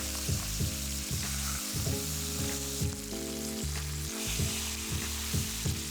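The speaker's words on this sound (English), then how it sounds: "So we're gonna flip it, we're gonna let it cook on this side." Lamb sears in a pan after being flipped, giving a continuous close sizzle under a repeating low mechanical hum with rhythmic pulses, and no talking.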